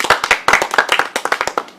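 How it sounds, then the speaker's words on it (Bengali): Hands clap in a quick, uneven burst, around a dozen sharp close claps in under two seconds, loud and alone. "ভাই হাততালি হইবে"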